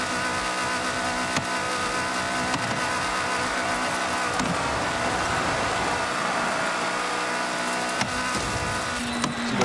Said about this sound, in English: I got valves knocking